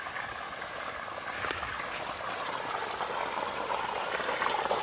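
Irrigation water from a pipe setup runs into a grass field, making a steady, close, hissing, bubbling gush that carries on without a break and grows slightly louder.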